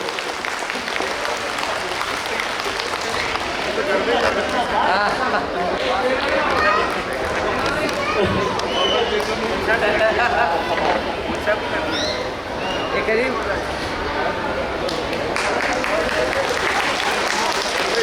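Children, teachers and parents at a school prize distribution at Al Manaar Primary & High School applaud steadily, a sustained crowd clapping with voices mixed in.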